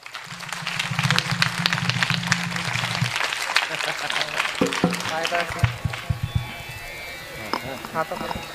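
A congregation claps along during a Marathi kirtan. Brisk, irregular hand claps run through the whole stretch beneath a preacher's continuous speech, with a low sustained drone early on and the clapping thinning toward the end.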